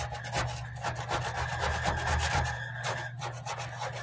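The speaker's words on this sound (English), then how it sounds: "see if I can scrape off some of this crap stuff on it" A scraper rasping residue off a surface, a fast run of repeated rough scraping strokes lasting about four seconds, close and fairly loud with no talking.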